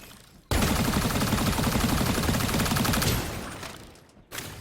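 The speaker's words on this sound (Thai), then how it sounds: "ผมชอบเสียงปืน มากอะ เสียงตอนยิงนี่แบบ เออ ดูดีใช้ได้" Rapid automatic gunfire from an alien-styled rifle in the shooter game Strinova, a dense, loud sustained burst lasting several seconds before tapering off, then a short final crack.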